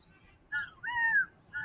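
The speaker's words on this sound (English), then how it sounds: "Big flocks of blackbirds want to eat the corn." Blackbirds near a corn field give a few loud, harsh calls in short bursts, three distinct cries over a quiet background.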